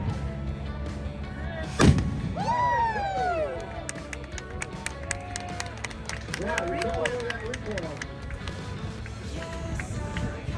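A single loud cannon shot booms near the start, followed by a crowd clapping and cheering, with people talking throughout afterward.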